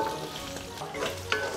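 Pork stir-frying in a pan over an infrared gas stove, a steady loud sizzle with scraping stirs and a sharp clatter near the end, no voices.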